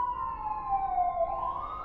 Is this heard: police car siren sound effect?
yes